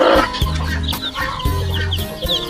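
Mixed-flock chickens peck at one hen and cluck nearby, with two or three low clucking bursts and small scratchy pecking sounds close by.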